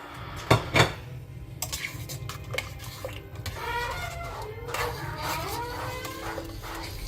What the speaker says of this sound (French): Et je continue toujours à remuer avant.